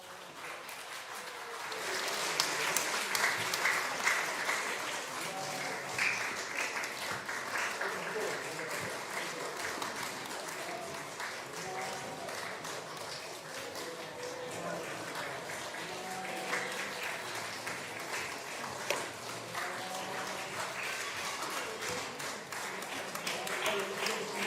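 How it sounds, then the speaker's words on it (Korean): A church congregation claps at a Christmas service as gifts are handed to young children, a sustained wash of applause lasting the whole stretch with faint voices mixed beneath. "우리 애기들 선물 줄 때 박수 좀 잘 쳐주세요"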